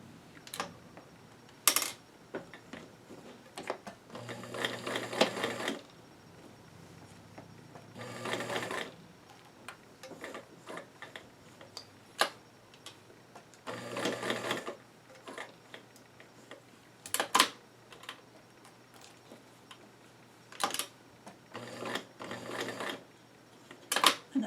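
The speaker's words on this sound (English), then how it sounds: "now it's time to edge stitch all the way around each of these pockets" A sewing machine edge-stitches around the pockets of tiny doll jeans in a few short whirring bursts, separated by quiet stretches filled with sharp ticks and clicks of handling.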